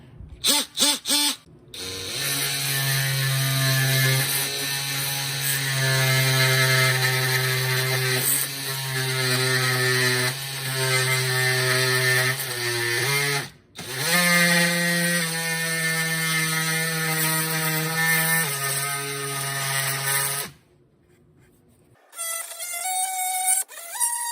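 Oscillating multi-tool fitted with an extra-long reach blade scraping a layer of glue off a surface, a loud steady buzzing whine running for about twenty seconds with a brief break, then a short restart.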